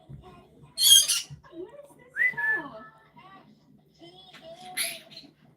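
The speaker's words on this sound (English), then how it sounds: "I don't know if you guys can hear my bird." A pet bird named Yoshi whistles and chirps in short, bright bursts, with a few squawky talking-like calls spaced across a quiet room, fairly close.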